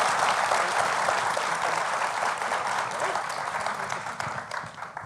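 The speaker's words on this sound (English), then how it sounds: "Please, let's give the panel a round of applause." An audience at a summit panel session applauds, a sustained crowd clapping that tapers off toward the end while a voice speaks faintly over it.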